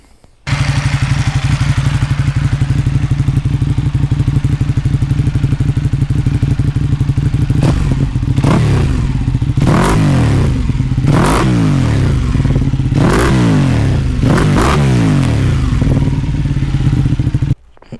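A Ducati 899 sport motorcycle is ridden, its engine droning loud and close with repeated rising revs through the gears, throttle surges and shifts audible over wind rush.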